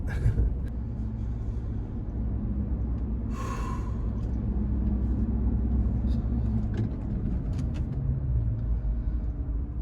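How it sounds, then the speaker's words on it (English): A car drives in road traffic leaving Toronto, its steady engine and road rumble heard from inside the cabin, with faint clicks and a brief sigh-like sound over the constant low drone. "Man, there's always traffic."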